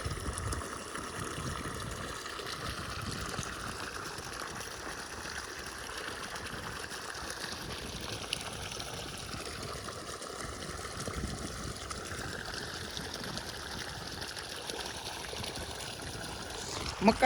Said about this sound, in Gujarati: આવી ગયો પાણી